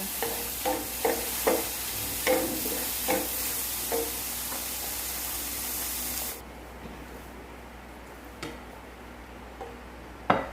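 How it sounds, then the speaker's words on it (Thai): Pork roll dry-fried in a pan without oil gives a series of scraping stir strokes and soft sizzle, regular and close, then the pan goes quieter with only occasional scrapes. "เอามาคั่วเลยค่ะ เพราะว่า มันจะได้ น้ำมันจาก ไข่แล้ว เราไม่ต้องเติมน้ำมัน"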